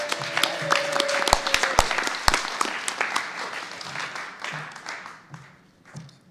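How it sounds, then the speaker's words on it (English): An audience at a talk applauds with dense, crisp clapping that stays strong for several seconds, then thins out and tapers near the end. "So while everyone is clapping, maybe give a round of applause to the Naropa folks who helped with tech stuff and setting this up."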